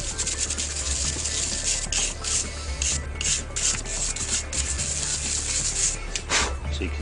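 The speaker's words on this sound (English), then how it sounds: "The circular motion helps to clean all the dust and just give the wood a little burnish" Bonsai dead wood rubbed in a circular motion to burnish it makes a close, continuous dry scrubbing and rasping with rhythmic swishes, fairly quiet, with no voices.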